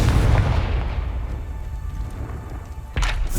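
A Confringo fire spell explodes in the Hogwarts Legacy video game: a loud, close booming blast that rumbles and fades over a few seconds, then a second sharp burst near the end.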